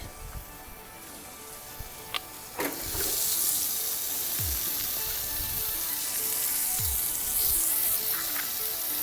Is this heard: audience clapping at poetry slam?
no